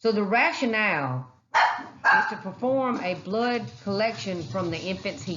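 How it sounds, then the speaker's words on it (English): Several dogs bark and yip repeatedly indoors close to the microphone in loud overlapping bursts, while a person keeps talking over them. "sorry about the dogs"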